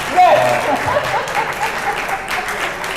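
Audience applause at the end of a class, with a burst of clapping that rises early and then continues steadily while a voice briefly speaks over it.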